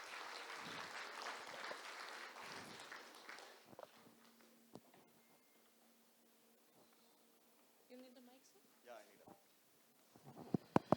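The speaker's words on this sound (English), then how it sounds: "Can you show a little excitement with a huge round of applause for the HP team?" An audience at an HP team event in Coimbatore applauds in a broad, even wash of clapping that gradually fades over several seconds, followed by quiet room noise, scattered sounds and brief talk.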